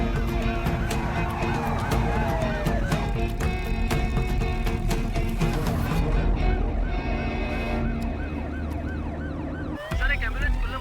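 An ambulance siren wails through a tense city scene in a Tamil thriller, its rising and falling tone sustained and loud for about ten seconds over a dense music bed, with a brief dip near the end.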